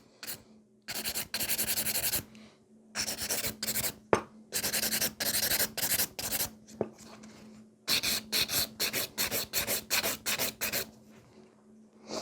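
A file rasps across a fingernail in bursts of quick back-and-forth strokes, close and crisp, with short pauses between each run of strokes.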